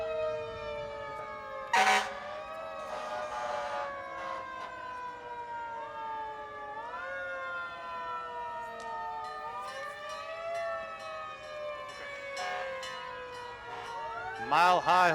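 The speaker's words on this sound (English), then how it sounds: "Vernon Fire Department, engine number 11." Fire engine siren wailing in a Memorial Day parade, Vernon Fire Department engine 11, rising and falling tones close and loud, with short horn blasts at the start and end, under a spoken announcement.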